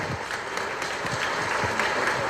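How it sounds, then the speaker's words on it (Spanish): Applause for a speaker at an industrial congress in Honduras: steady, dense clapping from a conference audience, filling the whole stretch at moderate level. "Fuerte el aplauso."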